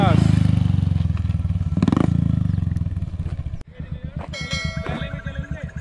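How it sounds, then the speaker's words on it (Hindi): A Royal Enfield Bullet with a Dolphin silencer, its exhaust giving a steady deep thumping beat heard from a distance, with clattering and ringing noises over the later part. "तो ये है भाई इसके साइलेंसर की आवाज़ दूर से।"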